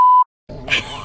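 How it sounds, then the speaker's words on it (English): One short, sharp censor beep at a steady pitch, a brief silence, then a muffled voice. "I have to keep beeping you because you always say baby sister's name."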